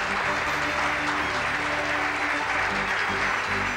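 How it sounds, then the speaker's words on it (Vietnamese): Audience applause fills the hall at the Miss Vietnam 2000 beauty pageant final as a contestant is introduced, a steady, loud wash of clapping that holds evenly throughout with no voices on top. "chúng ta hãy dành những tràng pháo tay thật nồng nhiệt cho thí sinh đến từ Thanh Hóa"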